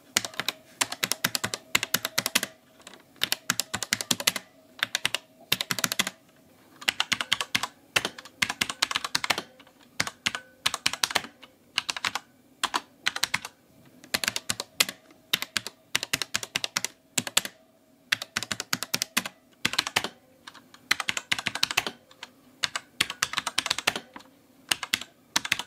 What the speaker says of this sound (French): je vais vous faire une comparaison du bruit des touches avec mon ancien clavier MX Cherry Red